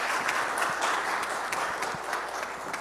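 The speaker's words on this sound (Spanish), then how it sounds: "Un aplauso a nuestro expositor." Audience applause for a presenter closing a talk at a sustainable energy forum, a steady dense wash of clapping at moderate distance lasting the whole moment with no talk over it.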